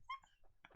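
A human voice imitating a yappy teacup dog's bark, a few quick, thin yips in a brief burst, close and fairly faint.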